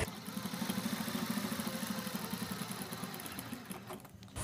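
Sewing machine stitching around the neck of a kurti: a rapid, even mechanical clatter of needle strokes, close and steady, that slows and stops near the end.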